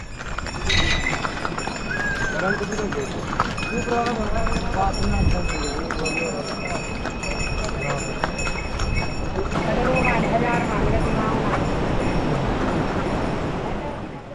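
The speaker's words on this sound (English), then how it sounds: "In Yamunotri, we chose to take a horse ride for our journey to climb." Hooves clip-clop on the horse ride climbing the mountain path up to Yamunotri, irregular steps under a busy mix of background voices and trail noise, fairly close and steady throughout.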